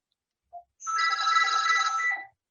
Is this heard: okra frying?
no